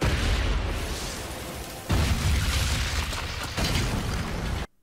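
A big explosion in the Naruto Shippuden anime roars as a sustained loud rumbling blast, with a fresh burst about midway, then cuts off abruptly to silence.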